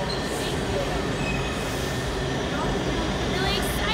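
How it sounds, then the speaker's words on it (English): A metro train in Washington, DC rumbles steadily nearby, with broadband roar and faint squealing, while voices talk faintly underneath. "Is this our train?"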